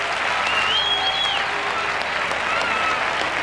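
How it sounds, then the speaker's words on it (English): A stadium crowd at an athletics European Cup meeting in Madrid applauds and cheers a triple jump, dense sustained clapping and roar heard from a distance, with faint whistles rising above the wash of sound. "That's even got the Spaniards cheering."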